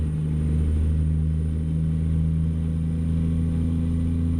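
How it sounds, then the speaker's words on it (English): A big truck engine in American Truck Simulator, driven with a steering wheel, drones with a steady low rumble and hum, loud and continuous without talk. "I miss driving in America, hearing this big, loud, masculine engine."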